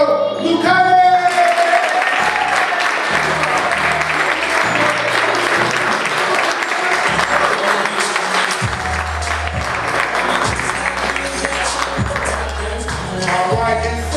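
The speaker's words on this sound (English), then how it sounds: "From North Pittsburgh, round of applause" Sustained audience applause for a sales agent from North Pittsburgh at a weekly agent report, dense steady clapping from a sizable crowd that fills the whole stretch, loud and close, with no talk over it.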